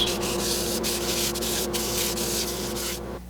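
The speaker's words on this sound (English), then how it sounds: "And now we're sanding again" Loud, steady abrasive rubbing of sandpaper against a spinning wood-and-resin piece on a lathe, a continuous whooshing grit that cuts off abruptly near the end.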